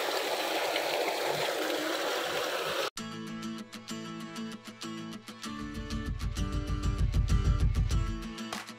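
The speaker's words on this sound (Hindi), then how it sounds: "कितना अच्छा पानी गिरा" Water rushes and streams steadily for a few seconds, then cuts abruptly to rhythmic music with a steady beat.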